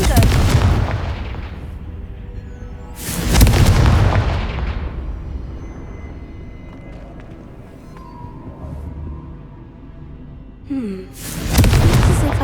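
A Confringo fire-blast spell from the game Hogwarts Legacy explodes in three loud, booming bursts, at the start, around three seconds and near the end, with a rumbling ambient drone and a brief whoosh between them.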